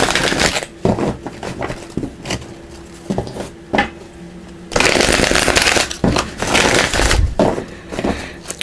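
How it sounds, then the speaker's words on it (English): Tarot cards being shuffled by hand, a run of brisk riffling and sliding bursts up close with short pauses between, growing denser and louder toward the end, with no talking. "Let's shuffle."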